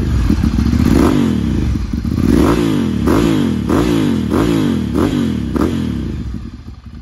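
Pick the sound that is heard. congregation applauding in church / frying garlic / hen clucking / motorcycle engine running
motorcycle engine running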